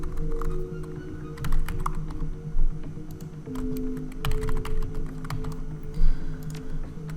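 Fingers typing on a computer keyboard while playing Shadowrun: Dragonfall, bursts of quick clicking keystrokes with short pauses between, close and fairly loud, no voice.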